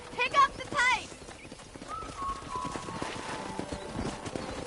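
Horse hooves trotting in Red Dead Redemption, a brisk rhythmic clip-clop close by, with a couple of whinnies at the start and someone talking over the steady hoofbeats.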